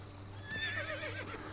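Horse neighing in the video game Assassin's Creed Brotherhood: one rising and falling whinny heard alone, with a steady low hum underneath.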